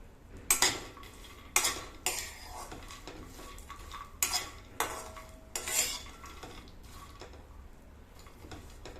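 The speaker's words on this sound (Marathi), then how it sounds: "आता हे मी छान थोडेसे लालसर होईपर्यंत भाजून घेणार आहे" Cashews and pistachios roasting in a dry pan, a few separate bursts of rattling and scraping as a spoon stirs the nuts, close but quiet, with pauses between them.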